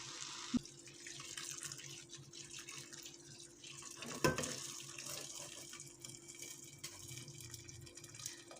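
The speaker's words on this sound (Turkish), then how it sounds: "pul biber, karabiber, suyunumuzu da ekliyoruz." About a litre of water is poured into a pot of chickpea stew, making a soft continuous running and trickling sound with a couple of brief clunks. It stays fairly quiet throughout, with no talking.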